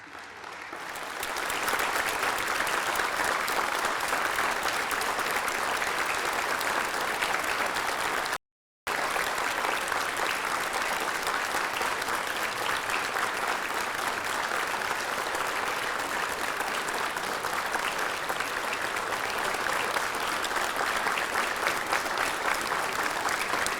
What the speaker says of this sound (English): one more relaxed applause, one more time.